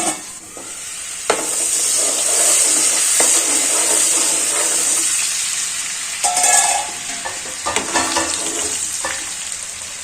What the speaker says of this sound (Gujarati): બધી ડુંગળી એડ કરી દેશું અને પ્રોપર રીતે સાતળી લેશું।